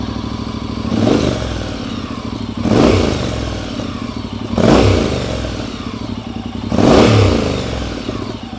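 A Honda NC750X motorcycle fitted with a Black Widow 300mm exhaust idles, then gets four quick throttle blips, each a short rising rev that falls back to a rumbling idle, close and loud.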